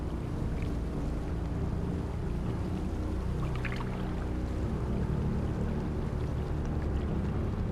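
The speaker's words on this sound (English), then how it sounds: "During the night, meltwater has flooded the river." Steady, loud rushing water fills the whole stretch, a broad continuous roar like a swollen river in full flow, with no voices.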